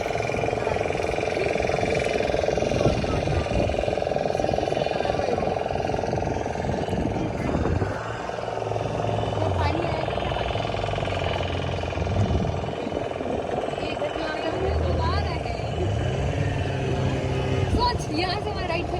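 Motorboat engine droning steadily on a boat ride through a mangrove forest near Pondicherry, a continuous low hum with wind and water noise, while people talk over it off and on.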